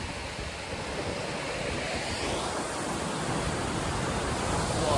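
Heavy, continuous rushing water from a tall waterfall in Laos, a dense roaring wash close to the microphone with some wind buffeting and no talk.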